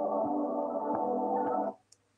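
A short music excerpt with hidden data embedded in every fourth byte, heard as a sustained, fairly clean tonal passage with faint pulses that plays for under two seconds and then stops.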